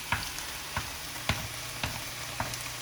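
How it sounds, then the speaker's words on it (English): Eggs hit a hot pan during a stir-fry vermicelli cook, giving a steady close sizzle with five soft stirring or tapping knocks spaced evenly across it. "I'm gonna add in my eggs."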